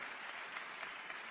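An audience at a convention applauds, producing a brief, dense burst of clapping that holds evenly throughout with no speech over it.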